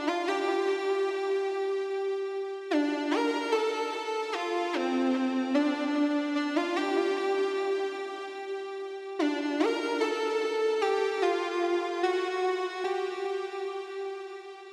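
Moog Minitaur synth lead shaped by RC20 saturation and effects, playing a sustained legato melody of gliding held notes with rich buzzy harmonics, loud and continuous with a brief break midway, no talking.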